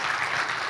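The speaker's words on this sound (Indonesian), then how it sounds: "Boleh minta tepuk tangan nih Bapak sekalian?" Brief, moderately quiet burst of audience clapping at the opening of an Indonesian digital literacy academy event, a dense even patter with no voices.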